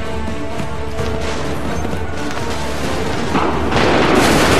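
Musket volley gunfire in the video game Assassin's Creed 3, a loud rolling mass of booming shots and crashes that swells toward the end.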